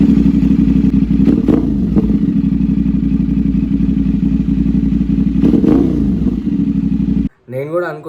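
A 270-degree crank twin motorcycle engine, a CF Moto, revs and idles loudly and steadily up close, with two swelling revs before cutting off; someone talks briefly near the end.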